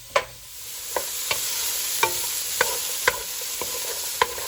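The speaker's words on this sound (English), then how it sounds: "you want to be stirring them constantly while they're cooking" Peppers being stirred constantly in a pan with a soft sizzle underneath, with about nine distinct spatula scrapes and taps at irregular intervals, close and moderately loud, with no talking.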